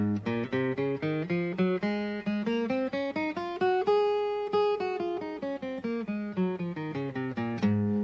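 A guitar plays the Mixolydian mode scale as a steady run of single plucked notes, climbing and then descending at an even pace, clear and close with no voices.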